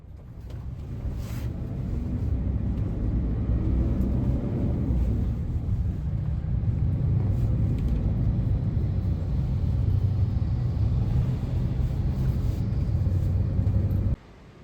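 Inside a Toyota HiAce minibus carrying nine passengers plus driver on the way to Juanda Airport, a steady low engine and road rumble drones on continuously, with wind noise, until it cuts off abruptly at the end.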